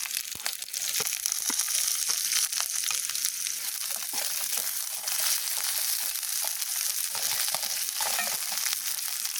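Chicken frying in a pan with onions, chillies, ginger-garlic paste and biryani masala, giving a steady, dense sizzle with crackles and occasional stirring scrapes throughout.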